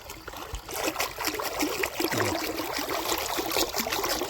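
Water gushes from a 5-inch pipe in a continuous, moderately loud rush and trickle, outdoors on a farm, with no talk.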